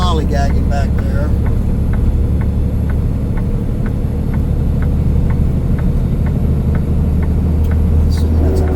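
A car and a truck labor up a highway hill, giving a loud, steady low engine drone and rumble that holds constant throughout, with a faint regular ticking over it and brief voices at the start.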